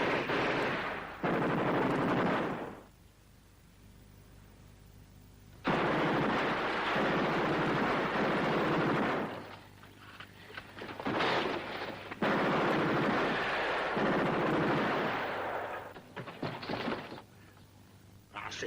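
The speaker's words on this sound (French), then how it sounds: "Tirez dessus! Tirez dessus!" Gunfire in a 1954 French-dubbed war film scene set in Singapore, with loud broadband bursts of shots and blasts in long sustained stretches separated by quieter gaps.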